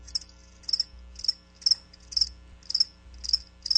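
Crickets chirp in a radio advertisement, steady rhythmic bursts of high trilling pulses repeating about twice a second over a low hum, fairly quiet, with no voices.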